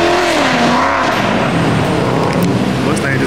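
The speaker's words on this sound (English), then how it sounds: "Mustang just pulled up." A Ford Mustang rolls up at a Christmas car meet, its engine a steady loud rumble throughout, mixed with the broadband din of other idling cars and crowd chatter nearby.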